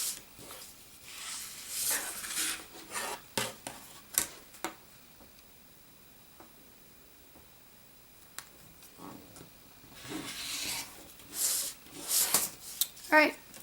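Scissors snip through paper piecing pattern pieces in quick bursts of crisp cuts and rustles, close and fairly quiet, with a calmer stretch between clusters of snipping.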